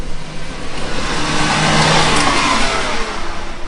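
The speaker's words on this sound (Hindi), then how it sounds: "एक गाड़ी बहुत ही ज़्यादा स्पीड से आती हुई दिखाई दे रही थी।" A car approaches at high speed at night, its engine roaring loud and close, swelling to a peak and then easing slightly as it passes, with no voices.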